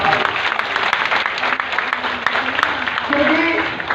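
Hands clapping steadily throughout a meeting hall while a voice talks over the applause.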